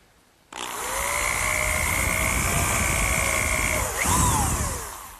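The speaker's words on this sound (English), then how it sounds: "just drill a hole down into the side frame" A power drill bores a hole into a wooden side frame: a loud, steady whine starts abruptly, holds for several seconds, dips, briefly rises again, then winds down, heard close and alone.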